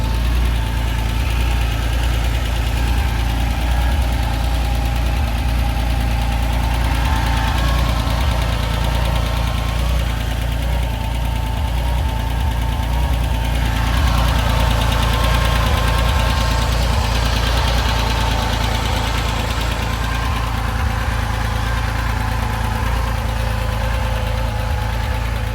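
A 1975 Porsche 911 coupe with a rebuilt engine idles steadily and close up, a continuous low, even mechanical rumble with a faint knocking texture and no voices throughout.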